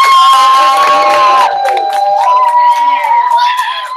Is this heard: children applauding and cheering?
yes